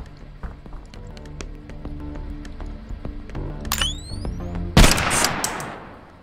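Guns fire at a firing range in the retro-style VR shooter Compound: scattered sharp shots and clicks build up, ending in one loud, close blast that decays with a rushing tail.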